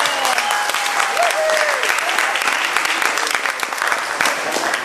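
Audience applause in a church service, a steady wash of clapping from a crowd that carries evenly for the full stretch without pause.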